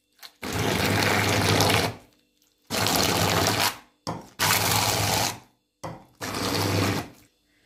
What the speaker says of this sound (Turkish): Şimdi güzelce bunu blenderdan geçirelim bakalım.